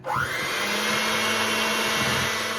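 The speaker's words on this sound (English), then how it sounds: "I'm gonna add 1/3 of that flour mix, and on low, mix that in" An electric mixer running on low speed blends flour into a Samoa bundt cake batter, giving a steady, even whirring drone that holds unbroken from start to finish.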